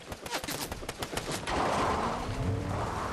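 Rapid gunfire in Fortnite: a quick string of sharp, close shots in an uneven burst over the first second and a half, giving way to a steady noisy wash with faint sounds beneath.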